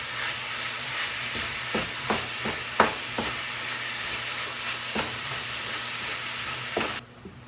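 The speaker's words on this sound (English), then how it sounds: "I'm going to give this ground beef a stir." Ground beef stirred in a frying pan, a steady sizzle of browning meat broken by several scraping knocks and clacks of the utensil, close and fairly loud, ending abruptly.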